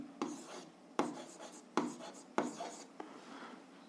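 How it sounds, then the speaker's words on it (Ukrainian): Pen strokes of a handwritten algebra solution scratch across paper in a quiet room, several distinct bursts with short pauses between them, close and fairly soft. "Записуємо отже. Пишемо отже."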